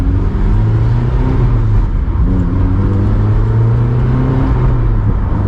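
A 2004 Honda S2000 AP2 with a lightweight flywheel revs hard through its gear shifts, the loud engine note climbing and dropping with each change, close up and steady without any talk.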